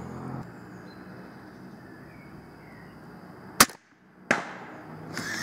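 An EK Archery RX Adder tactical crossbow fires at a balloon: a quiet stretch of ambient hiss, then a sharp snapping shot, a brief silence and a second crack or pop.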